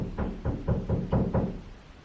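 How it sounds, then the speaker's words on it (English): Six quick, even knocks on a wall from hanging a mirror downstairs, dull and moderately muffled, as if coming from another room, then fading to quiet. "Sorry if you hear that knocking."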